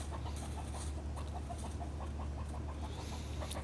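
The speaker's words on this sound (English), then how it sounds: "The chickens are a little excited about that." Homestead chickens in a mountain garden in north Idaho cluck excitedly in quick repeated bursts over a low steady rumble, close by and continuous.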